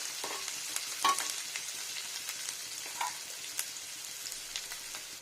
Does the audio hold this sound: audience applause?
no